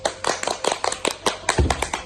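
A small group claps for Mbak Yuni during a casual chat, a dozen or so sharp, close handclaps in a quick, uneven rhythm, with a brief low thump partway through.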